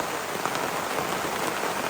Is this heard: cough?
no